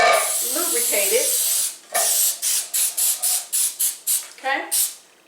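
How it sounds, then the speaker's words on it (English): A can of cooking spray coats a cake pan for sour cream pound cake, first in a long steady hiss, then in about eight short quick bursts around the sides, close and loud with no talk. "I just normally just spray my whole pan all around"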